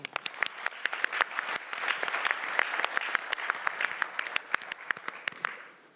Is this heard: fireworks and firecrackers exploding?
no